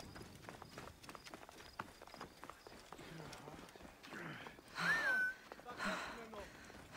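Horse hooves clip-clop at a steady trot in Assassin's Creed Origins, a quick rhythmic patter of fairly faint hits under game ambience, with a voice talking over the later part.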